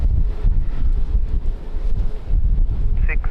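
Strong gusting wind at Lisbon Airport buffets the microphone in a loud, continuous roar that swells and dips with the gusts.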